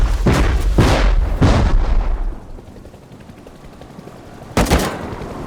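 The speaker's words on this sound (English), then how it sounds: "How many rockets does this guy have?" Rocket explosions strike a base in the survival game Rust: three heavy booming blasts land in quick succession, loud and close, followed by a quieter lull and then one more sharp explosion near the end.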